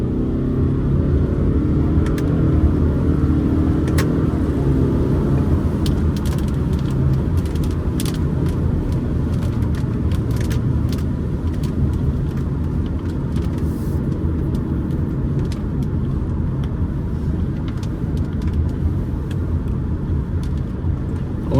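A 2023 Subaru Crosstrek drives along a road, its steady engine and tyre rumble loud and constant from inside the cabin, with a few faint ticks and clicks scattered over the drone and no talking.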